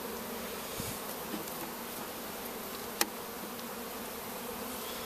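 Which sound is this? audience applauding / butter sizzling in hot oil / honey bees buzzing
honey bees buzzing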